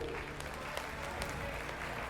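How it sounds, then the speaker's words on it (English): Audience applause for a team at a televised debate quiz, steady, moderate clapping from a crowd, faint and continuous throughout. "One huge round of applause to Team B."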